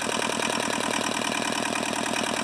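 A rusty tractor's diesel engine, left unused for over 15 years, runs with a steady, rapid knocking rhythm, close and loud, continuous without speech.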